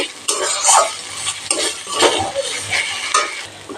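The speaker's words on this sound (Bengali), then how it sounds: "টমেটো কষিয়ে নেব কাঁচা গন্ধ যাওয়া অবধি" Tomatoes being stir-fried in a kadai for aloo matar paneer masala: a utensil scrapes and stirs in repeated strokes over a soft, continuous sizzle, close and clear, with no voices.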